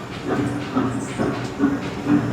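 An antique coal transport train rolls slowly at about 3 km per hour at a coal-mining tourist site, giving a steady low rumble with soft periodic clunks and a faint hiss throughout.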